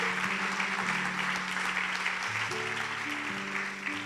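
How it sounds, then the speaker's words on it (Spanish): A church congregation claps loudly together, dense sustained applause filling the room from start to finish while low musical tones hum underneath. "Dale un fuerte aplauso al Señor."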